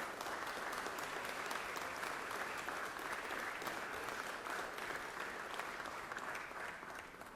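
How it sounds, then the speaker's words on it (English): Applause fills the Georgia Senate chamber, a dense, even clapping from the assembled members that holds steady throughout and fades slightly at the very end. "please give them a round of applause where they stand over in the Senate office building now"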